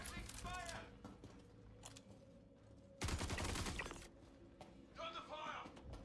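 Bursts of suppressing gunfire in a first-person shooter game, scattered sharp shots with a heavier burst around the middle, mixed with a voice talking.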